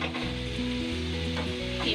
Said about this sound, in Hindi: कीमे को फ्राई करेंगे।